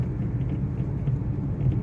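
A Hyundai Santro car driving over a bumpy, rough, potholed road, heard from inside as a steady low rumble with slight jolts and no talking.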